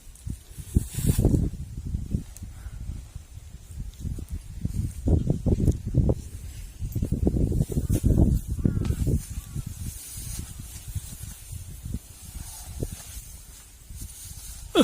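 Cool wind blowing outdoors, buffeting loudly in gusty low rumbles with a rustling hiss that rises and falls throughout.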